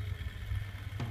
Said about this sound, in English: stop the engine now